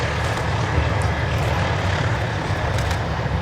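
B-17 bomber Sally B flying a display at the Duxford Battle of Britain airshow, its piston engines giving a steady, loud, low droning rumble that holds constant throughout with no voices.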